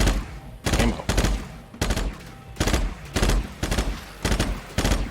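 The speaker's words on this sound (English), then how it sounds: "So as you start to run out of ammo on this burst rifle, you notice the pitch of the shots goes up a little bit" Burst rifle fire in a video game, repeated three-round bursts cracking close and loud at a steady rhythm, with the shots rising slightly in pitch as the ammunition runs low.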